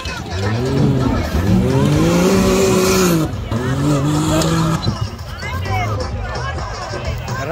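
An SSV side-by-side roars nearby in a trial competition in Sisesti, Maramures, its pitch climbing and dropping as it revs through gears, with crowd noise and tire noise around it.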